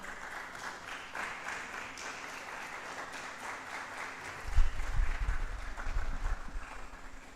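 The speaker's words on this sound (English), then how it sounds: "can we give her a round of applause as she comes?" Audience applause for a speaker at a work-themed conference, steady clapping from a crowd that grows louder and heavier toward the end, with low thumps of movement as the speaker comes up.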